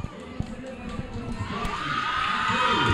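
A crowd of Newcastle football fans at a Chapadinhense championship match, cheering and shouting after the win, the noise rising to a loud, sustained roar of voices, with a few thumps early on.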